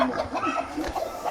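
A chicken clucks in short repeated bursts close by, a brisk rhythmic series of clucks with no talking.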